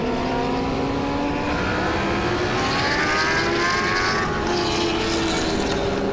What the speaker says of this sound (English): Dude, that Jixer's fast, bro.